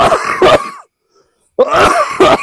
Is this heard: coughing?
yes